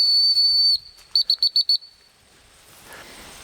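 A shrill dog training whistle used in duck dog handling gives one long blast, then five quick short pips in a row, followed by quiet outdoor background.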